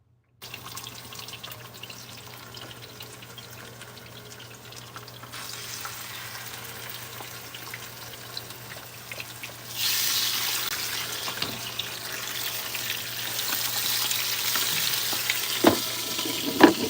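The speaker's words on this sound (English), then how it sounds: "these are my fish that I'm just going to go ahead and put in the oil" Fish frying in oil in an electric frying pan for escovitch fish, a quiet low sizzle that swells suddenly into a louder, crackling hiss partway through and keeps bubbling steadily with occasional pops.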